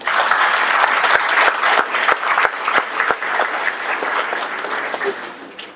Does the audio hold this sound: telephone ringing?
no